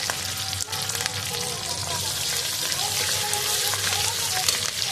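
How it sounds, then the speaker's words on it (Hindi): Chopped onion sizzling in hot oil with ginger and green chili, a close, steady crackle and hiss with occasional pops, a voice talking faintly over it. "और ये अब डाल दिया है प्याज हमने फ्राई होने के लिए।"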